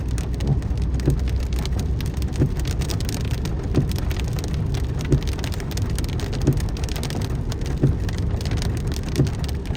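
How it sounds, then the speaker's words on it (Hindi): Rain drizzles steadily in Makkah, a dense, even hiss of drops on surfaces with faint periodic taps, constant and fairly loud throughout with no voices. "बारिश अब कुछ कम हो गई है, बूंदाबांदी समझें कि हो रही है।"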